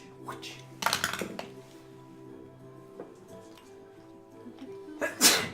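One sharp sneeze bursts out near the start during a tabletop role-playing game session, with a second burst near the end and quiet room noise between.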